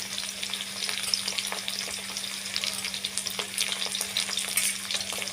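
Onions frying with ginger-garlic paste for a chicken dish, a steady sizzle with frequent stirring clicks and scrapes, under a constant low hum.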